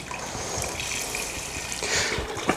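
Chicken broth poured into a pot of thick, red-orange soup, a steady close gushing, splashing flow lasting a couple of seconds, with a small knock at the end.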